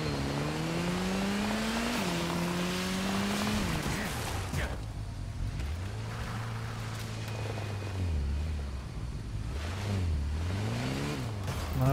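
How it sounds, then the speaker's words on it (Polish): Engine of a new motorcycle in the Gotham Knights video game revs and drones steadily, with rising and falling pitch sweeps, loud and close throughout, under game dialogue and speech. "Nowy motocykl."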